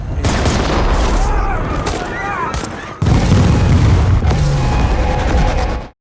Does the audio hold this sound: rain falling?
no